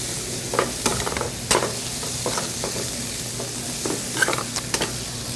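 Sloppy joe meat with ketchup, tomato sauce and chipotle is stirred in a hot pan, with scraping strokes and soft knocks over a continuous close sizzle and no voices.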